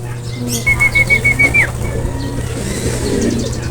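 A racing pigeon arriving home during a hard race, wings flapping in a quick burst of beats nearby, with a bird call and faint chirps against a steady low background hum.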